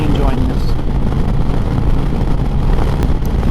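A 2025 Harley-Davidson Street Glide FLHX with stock exhaust while riding, a steady low engine rumble mixed with heavy wind rush, continuous and close, with a rider talking over it.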